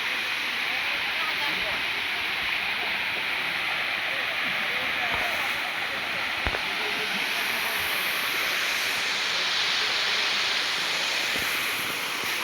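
Low-flow waterfall in a scenic valley on the Vizag to Araku route, a steady broad rushing hiss of falling water, continuous and even, with a few faint knocks.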